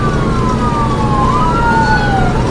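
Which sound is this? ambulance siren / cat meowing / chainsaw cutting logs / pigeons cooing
ambulance siren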